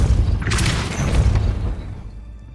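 Depulso force spell cast in the Hogwarts Legacy video game, a loud booming blast with a crackling burst that rumbles on for about two seconds before fading out.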